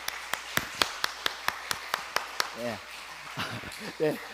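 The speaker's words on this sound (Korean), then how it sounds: "우리 박수로 한번 격려해 주시죠" Church congregation at a Sunday intergenerational service clapping together in a steady, even beat, sharp hand claps repeating for a couple of seconds before a voice takes over.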